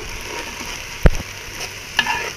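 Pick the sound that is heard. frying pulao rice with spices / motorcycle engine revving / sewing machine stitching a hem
frying pulao rice with spices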